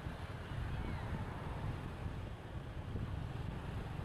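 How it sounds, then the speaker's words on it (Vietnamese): Strong northern wind blows steadily through a street in Da Nang, Vietnam, a dense, continuous rumble and hiss buffeting the microphone throughout. "gió rất mạnh"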